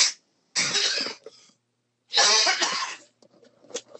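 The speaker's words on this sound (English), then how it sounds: "you have to give me this one break of coughing" A person coughs in two hard, close bursts separated by a pause, followed by a few softer throat sounds, loud against an otherwise silent room.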